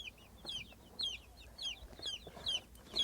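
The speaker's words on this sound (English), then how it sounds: "Now this is just your typical leghorn chicken" Leghorn chickens clucking in repeated short bursts about every half second, fairly faint and close, with light background noise and no talk.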